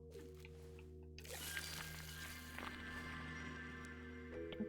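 A plant being watered in the video game Wanderstop: a soft, steady pouring wash starts about a second in and runs continuously over a low humming musical background.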